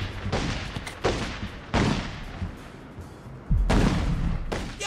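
Gunfire in The Godfather 2 video game comes in several sharp bursts spaced a second or two apart, with a heavier boom near the end over a low background rumble.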